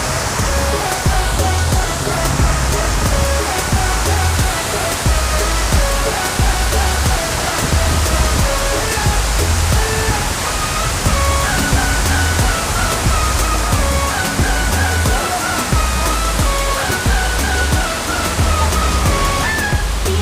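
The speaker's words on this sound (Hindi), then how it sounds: "ये खुर्फखान की वाटरफॉल जो कि बहुत ही प्यारा मंजर दे रही है यहाँ" Khor Fakkan waterfall in the UAE pours steadily, a loud, continuous rushing and splashing roar that stays even throughout with no break.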